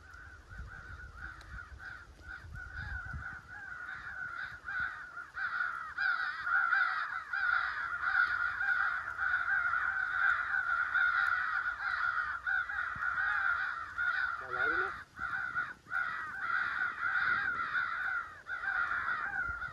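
Electronic crow caller playing a crow fight sequence outdoors during a crow hunt, a loud, steady stream of overlapping raucous caws filling the air without a break, with faint honk-like calls mixed in.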